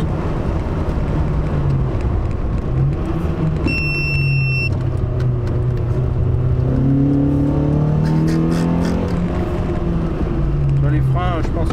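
Nissan Primera GT P11 four-door sports saloon engine revving hard while driving, a steady close cabin drone whose pitch climbs and falls with the revs, with people talking over it throughout.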